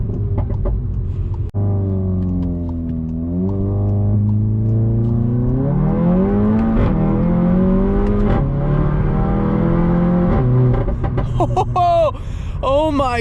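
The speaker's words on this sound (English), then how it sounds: "That was one of the most solid launches ever." A car with a TCU tune makes a launch-control start with traction control off. The engine revs rise steadily and loudly as it pulls hard through a gear, followed by a shift and a voice near the end.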